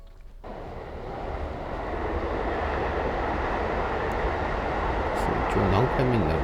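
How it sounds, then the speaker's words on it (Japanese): A train rumbles past continuously, its broad roar building and staying loud, with a brief squeal of wheels or brakes near the end. "列車が過ぎていくというような感じになっています。"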